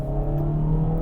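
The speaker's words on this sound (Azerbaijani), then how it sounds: "Sarıya qədər bir sürət artımı eləyək." A Kia Proceed GT with a 1.6 turbo engine accelerates, heard as a steady close engine drone from inside the car, brief and even without any spoken voice.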